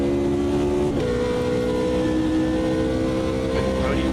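A Peugeot 205 GTI engine drones steadily in the Automobilista 2 racing game, holding a sustained tonal hum with a slight pitch shift while voices talk over it.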